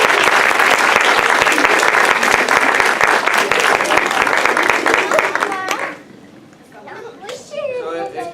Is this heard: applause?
yes